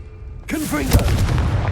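A Confringo fire spell from Hogwarts Legacy bursts at about half a second, a sudden loud blast with a whooshing, crackling tail that fills the rest of the moment, with a brief voice over it.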